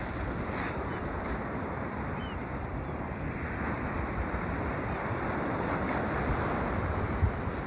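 Steady, broad rushing of North Sea waves washing on a beach, with wind across the microphone and no voices.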